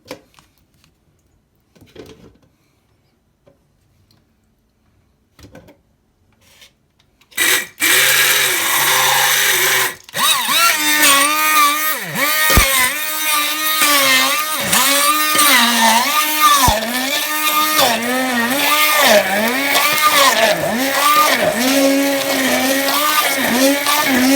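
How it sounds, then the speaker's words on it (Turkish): After a few quiet knocks and handling sounds, a blender roars to life pureeing washed grapes, whirring steadily and loudly, its motor pitch wavering as it churns. "bu yıkamış olduğumuz üzümlerimizi şöyle bir blenderdan geçirelim."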